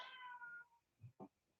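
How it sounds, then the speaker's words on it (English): A pet cat in a home kitchen gives a drawn-out, faint meow that falls in pitch, followed by two short, soft chirping calls. "What's up, cat?"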